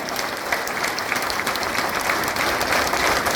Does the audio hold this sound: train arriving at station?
no